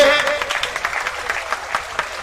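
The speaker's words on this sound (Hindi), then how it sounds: "बजाइए ताली जोर से।" Audience applause at a speech at a Mushaira event in Dhaka, a dense burst of clapping that starts loud and stays steady with slight pulsing for a couple of seconds, with no voices over it.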